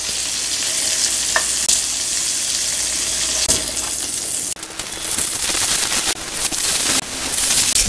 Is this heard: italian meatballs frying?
yes